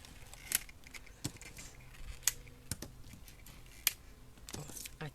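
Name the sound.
cutting succulent plant leaves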